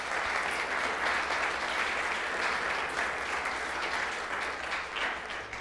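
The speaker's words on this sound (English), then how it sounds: "Let's give them all a round of applause." Sustained applause from the audience at a village council meeting, a dense, steady wash of many hands clapping together for the whole stretch with no voices standing out.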